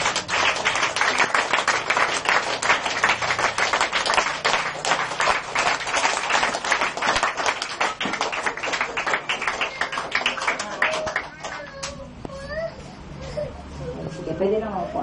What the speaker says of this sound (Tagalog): Habang pumapalakpak kayo, ay sabay-sabay kayong bumilang ng 1 to 20.